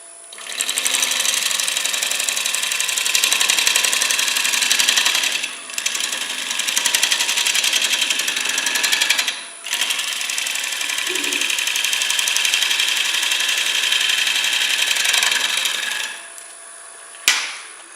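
Steady rough whirring and scraping of a wood lathe at slow speed roughing out a bowl, continuous and loud with a few brief pauses and a sharp knock near the end.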